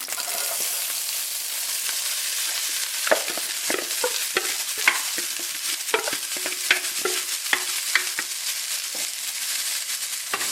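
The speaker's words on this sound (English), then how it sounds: "Next, I'm adding the cabbage and the onion." Red cabbage and onion hit butter and oil in a pan on an electric stove, raising a loud continuous sizzle broken by frequent scraping, clattering strokes of stirring, close and with no talk.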